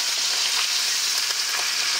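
Fish fried in hot oil sizzles and spatters in a dense, even hiss, close and continuous with no talking.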